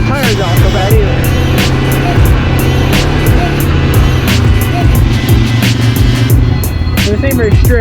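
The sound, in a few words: ATV riding on dirt trail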